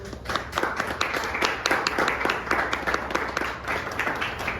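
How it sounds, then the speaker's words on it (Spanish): Audience applause for a speaker being introduced at a science fiction talk, a dense crowd of claps filling the room steadily at moderate volume, with no talk over it. "Un fuerte aplauso, por favor."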